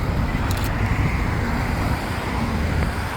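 Modified cars, among them a BMW 4 Series, pull away with a loud, continuous engine roar mixed with wind buffeting on the microphone, without distinct separate rev peaks.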